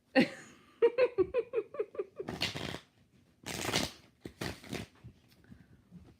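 Several short bursts of tarot cards being riffled and shuffled, after a stretch of giggling, vocal sounds at the start; close and fairly quiet.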